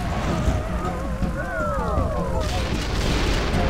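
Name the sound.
enemy thief robot being destroyed in Descent 3 video game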